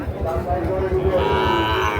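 A seven-to-eight-month-old Sahiwal bull calf lets out a long, low moo at a cattle market, close by and loud, with a rough throaty quality throughout.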